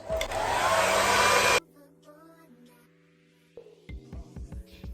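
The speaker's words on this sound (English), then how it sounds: "And then I'm gonna use hairdryer lowest heat" A hair dryer on its lowest heat setting roars steadily for about a second and a half, then shuts off, leaving quiet room noise and a few soft knocks.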